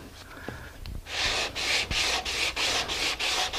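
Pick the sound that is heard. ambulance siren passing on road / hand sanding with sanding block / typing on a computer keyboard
hand sanding with sanding block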